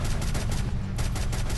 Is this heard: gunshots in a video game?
yes